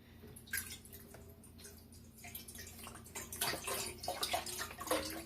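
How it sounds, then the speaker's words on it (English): A 32-ounce container of vegetable broth being poured into a cooking pot, a faint uneven splashing and trickling stream with gurgles that grows busier toward the end. "I'm just pouring this whole 32-ounce container in here"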